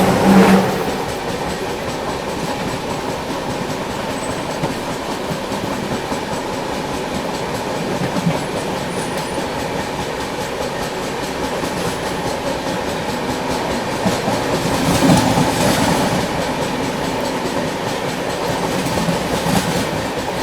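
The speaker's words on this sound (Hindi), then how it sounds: "अभी देखो बस मंजरी जंक्शन अपनी ट्रेन पहुंचने वाली है, और उसके आउटर में इतना स्लो डाउन हो गई है ट्रेन।" A passenger express train rolls along at reduced speed on the approach to Manjari junction, with a steady loud rumble of wheels and intermittent clickety-clack over rail joints from inside the coach.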